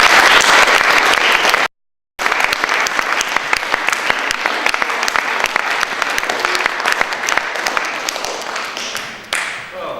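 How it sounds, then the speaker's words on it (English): Loud, dense applause from the audience at a children's parliament in Tiverton Town Hall, sustained steady clapping with a brief cut near the start, continuing evenly before tapering slightly at the end. "give yourselves a round of applause"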